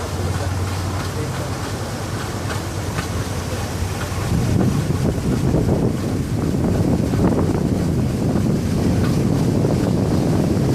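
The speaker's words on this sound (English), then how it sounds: "We are now sailing upon the world-famous Loch Ness" A tour boat cruises across Loch Ness in Scotland, its steady engine drone and water wash joined by gusting wind on the microphone, growing louder and rougher about halfway through.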